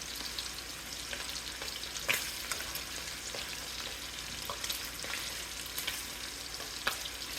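Spicy sausages fry in a pan on a stovetop, a steady close sizzle of hissing fat with small crackles and pops scattered throughout.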